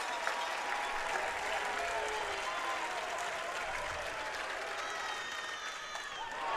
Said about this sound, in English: listen to this Mundelein crowd roar